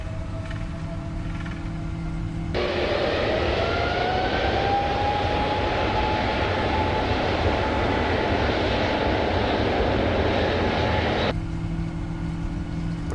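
Boeing 777-200ER engines spool up for takeoff in Microsoft Flight Simulator 2024, a steady, loud jet roar that swells as a whining tone climbs and then holds before the thrust cuts back.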